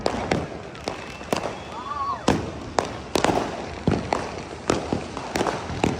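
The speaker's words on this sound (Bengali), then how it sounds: "চারিদিকে ফাটছে একদম কন্টিনিউ" Fireworks and firecrackers burst all around on a year's-end night, sharp loud bangs coming repeatedly at irregular intervals, some close and some farther off, with a whistling rise among them and faint voices in the background.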